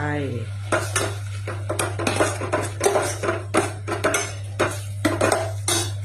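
Pork dropped into a hot pan and stirred, with dense clattering scrapes and stirring strokes over a steady low hum, loud and close throughout.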